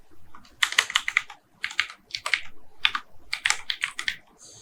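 Rapid bursts of keystrokes on a computer keyboard, typed in short irregular clusters with brief pauses between words, close and clear with no talking.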